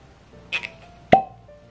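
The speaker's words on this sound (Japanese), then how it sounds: "これタリスカ、タリスカ10年開けよう。 よいしょ、はい、これはコルクだ。" A cork pulled from a bottle of Talisker 10-year whisky gives two soft squeaky plops and then a sharper, louder pop, close and clear in an otherwise quiet room.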